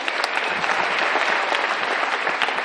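Audience applause at a live couples game show aboard the Oasis of the Seas cruise ship, steady dense clapping from a large crowd filling the room throughout.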